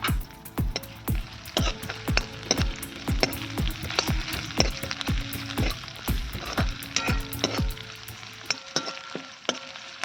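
Green chilies sizzle and fry in a pan over a wood-fired clay stove, a continuous close crackle broken by regular scraping strokes of a spatula as they are stirred, no voices.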